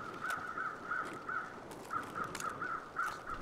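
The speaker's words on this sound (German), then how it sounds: "Ich höre links irgendwelche Krähen." Crows cawing off to the left in The Long Dark video game, a steady run of about ten short, evenly spaced caws, moderately distant, over constant wind-like ambient noise.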